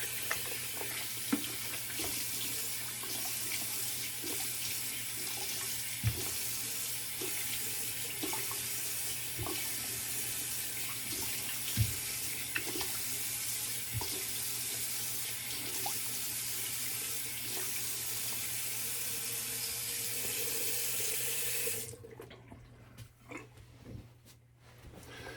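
Tap running steadily for a cold water rinse during a wet shave, a constant broadband rush at close range with occasional small splashes, shutting off near the end to leave a few faint drips and handling noises.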